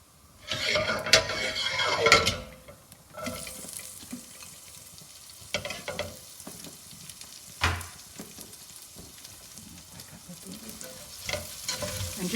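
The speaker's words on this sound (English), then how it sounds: "And just let them sweat out. Make sure they're cooked. Nothing's worse than uncooked onions." Onions fry and are stirred in a pan for a bolognese sauce: a steady sizzle underlies sharp scraping strokes of a utensil against the pan, loudest in a burst early on, then occasional stirs.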